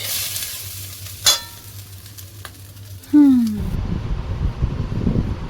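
Pulao rice fries in a spoonful of ghee and sizzles, starting abruptly partway through and continuing loud and close, with a clink and a brief squeak before it and a voice talking in the background.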